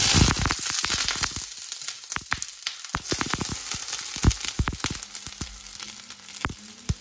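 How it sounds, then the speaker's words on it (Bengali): Potatoes dropped into smoking-hot mustard oil in a pan fry loudly, with dense crackling and popping sizzle that holds steady throughout. "এবার আলুটা দিয়ে দিই"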